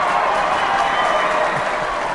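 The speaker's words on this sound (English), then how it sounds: "give yourself an applause" Applause on a podcast, a short even burst of steady clapping with no talk over it.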